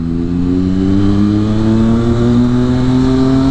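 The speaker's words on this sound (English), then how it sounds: "Guys, check out the beautiful quick shift on this bike." A Triumph Street Triple motorcycle accelerates loudly and close, its engine note climbing steadily in pitch as it pulls hard, with no talk.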